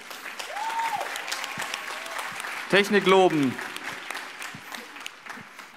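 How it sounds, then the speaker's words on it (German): Audience applause fills a hall at the DoKomi 2021 cosplay contest, a steady crowd clatter running throughout with a voice speaking over it and a brief sung or tonal phrase rising midway. "einen ganz großen Applaus für unsere Backstage-Helferin Reis"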